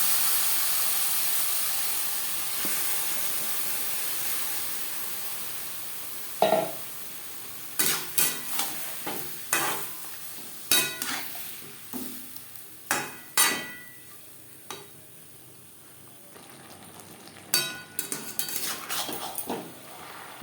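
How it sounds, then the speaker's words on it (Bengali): Marinated chicken being stirred into fried onions and garam masala for aloo chicken kosha, with a series of sharp scraping and clinking strokes of a spoon against the pan over a low background hiss. "পেঁয়াজ ও গরম মশলার সাথে মাংস বেশ ভালো করে মিক্স করে দেবো"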